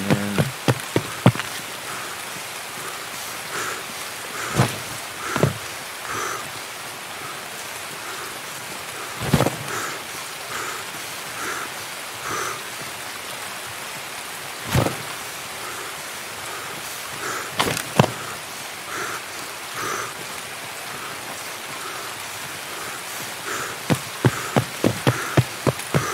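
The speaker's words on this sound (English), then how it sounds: "The rain's setting in." Steady rain hisses throughout a video game scene, with scattered louder drops and a few sharp crackles standing out over the constant wash.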